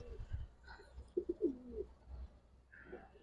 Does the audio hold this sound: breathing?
no